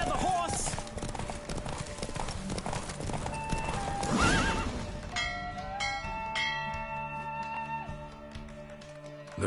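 Rapid hoofbeats of a galloping horse in a race in The Witcher 3: Wild Hunt, followed by a loud whinny, then ringing bell-like tones and music as the running fades.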